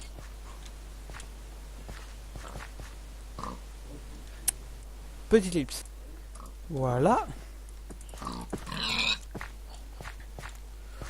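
Pigs grunt and squeal in the game para-craft, a few short snorts and one longer squeal scattered over quiet footsteps, with a person speaking briefly in French between them.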